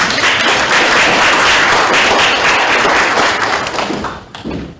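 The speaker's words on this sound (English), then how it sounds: "Can we give her a round of applause" Audience at an inauguration ceremony for a film festival breaks into loud, dense applause, many hands clapping steadily before it thins and fades out at the end.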